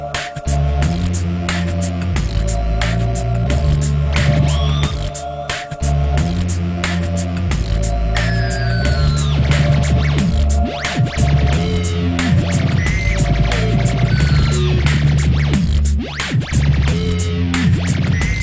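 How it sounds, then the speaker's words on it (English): A choppy, LFO-modulated synth layered into a live loop on a Boss RC-50 Loopstation, pulsing rhythmically over a steady bed of looped music, loud and continuous throughout. "I replaced the harmonies with the choppy synth, the LFO that's going crazy there"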